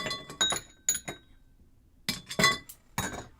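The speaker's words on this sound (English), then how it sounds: "Get our ice in there." Ice cubes dropped into a cocktail glass for a Button House cocktail, several sharp glassy clinks in quick bursts separated by brief silence, close and clear.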